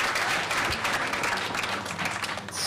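Studio audience at a live album release party Q&A breaks into steady, dense applause, a continuous wash of many hands clapping close by with no talk over it.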